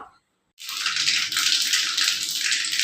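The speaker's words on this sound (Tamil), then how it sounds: "கடுகு வெடிக்கிறது" Dense, continuous crackling and spitting of mustard seeds popping in hot oil for a South Indian tempering, close and steady for a few seconds after a brief quiet start.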